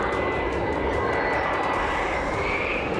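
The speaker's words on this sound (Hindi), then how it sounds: "बेरूत के आसमान में गरजते इजराइल फाइटर जेट" Israeli fighter jets flying over Beirut make a loud, continuous roar that fills the whole clip, a steady broadband rumble with no gaps and no voices.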